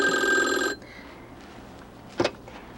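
A telephone bell rings loudly for under a second at the start, then cuts off into quiet room tone with a brief soft bump near the end.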